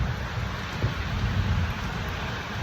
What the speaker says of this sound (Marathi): एवढा पाऊस आलाय